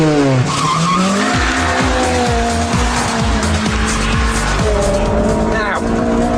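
Mugen Honda Civic Type R racing on a track, its high-revving VTEC engine screaming through rapid upshifts with repeated rising pitch sweeps, loud and close, with tyre squeal mixed in.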